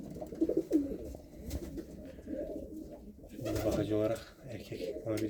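Pigeons in a coop coo softly and repeatedly close by, mixed with rustling and a few sharper calls, while someone talks over them.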